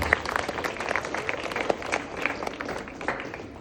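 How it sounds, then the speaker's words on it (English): Applause from children at a school morning assembly, a dense patter of many small hands clapping at a steady moderate level for several seconds. "give a round of applause for Blue House who conducted the assembly"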